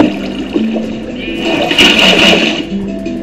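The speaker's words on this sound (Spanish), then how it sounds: "A ellos les gustará el agua corriente." Running water in the video game Minecraft, a loud, close rushing and gurgling flow that swells around the middle of the clip and then eases off.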